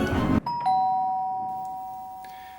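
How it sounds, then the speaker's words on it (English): A big bell in a great hall gives one loud, close dong that rings on with a long, steady hum, standing alone after a brief noise. "presently issued from the great hall a great rumbling dong from the great bell"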